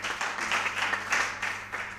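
An audience at a junior high school quiz competition applauds after a round, continuous dense clapping at moderate loudness with a steady hum underneath.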